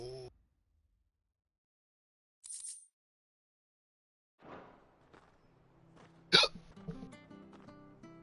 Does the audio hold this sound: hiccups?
yes